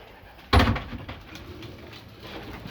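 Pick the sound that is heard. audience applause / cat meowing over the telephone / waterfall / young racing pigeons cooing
young racing pigeons cooing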